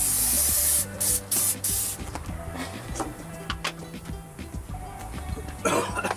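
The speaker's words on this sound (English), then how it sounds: "this stuff's trying to dry as soon as I spray it on there" Several quick hissing bursts of a spray bottle misting Super Clean cleaner, close by, followed by softer rubbing and a final spray.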